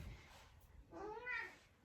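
A tabby cat named Meow Meow gives a single drawn-out meow near the close, rising then falling, after a quiet stretch of faint room noise.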